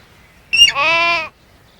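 A single sheep bleats once, a short rising note then a sustained wavering cry, clear and close against a quiet background.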